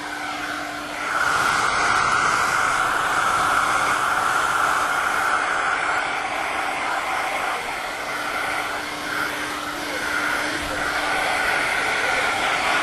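A hair dryer blows with a steady, loud whooshing roar that runs almost the whole time after a brief quieter start.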